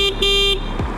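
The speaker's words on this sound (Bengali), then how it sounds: "হাইওয়েতে এই হর্নটা নিয়ে একটু প্যারা খাইতে হইতে পারে" The horn on a Lifan KPT 150 ABS motorcycle sounds two short, thin electric beeps close up, then stops, leaving a soft low hum.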